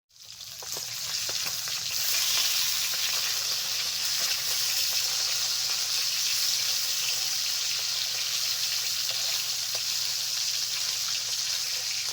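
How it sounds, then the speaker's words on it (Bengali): Turmeric-and-salt-marinated rui fish fries in hot oil, a loud, continuous, hissing sizzle that rises sharply at the start and then holds steady close by, with faint crackles throughout. "হলুদ লবণ মেখে রাখা মাছগুলো ভেজে নিচ্ছি"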